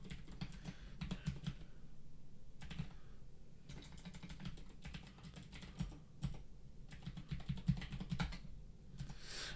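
Login email and password typed on a computer keyboard: bursts of close, crisp key clicks in rapid irregular runs, separated by short pauses.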